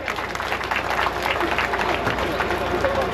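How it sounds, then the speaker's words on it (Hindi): A crowd at a village gathering in Sikandra claps, the sustained applause dense and fairly loud throughout, with murmuring voices mixed into the clapping. "मातृशक्ति से निवेदन करना चाहता हूँ, जोरदार तालियां बजाएं"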